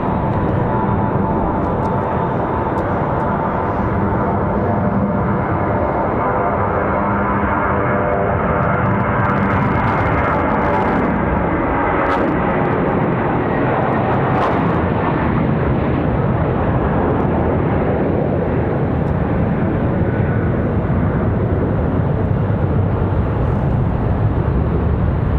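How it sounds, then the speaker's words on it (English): Airliner departing Raleigh Durham airport, a loud continuous jet engine roar with a rough, crackling broadband texture that stays strong and sustained throughout. "This is going to be another good sounding departure."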